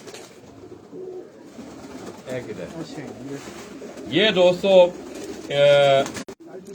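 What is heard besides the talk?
pigeons cooing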